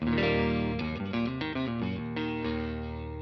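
Electric guitar from a 60s-style Fatback Strat copy with DiMarzio Area 54 pickups, played through a Marshall Origin 20H amp with a touch of reverb, rings out in a short phrase of sustained chords and notes, close and clear.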